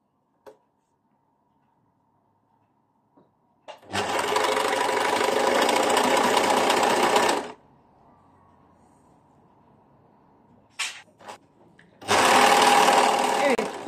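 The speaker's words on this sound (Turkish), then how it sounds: "Kolumun düz yüzünü bedenimin düz yüzüyle birlikte öpüştürerek dikmeye başlıyorum." A sewing machine stitches a sleeve onto a tunic body in two loud, sustained bursts of rapid mechanical whirring separated by quiet pauses, with faint handling clicks between runs.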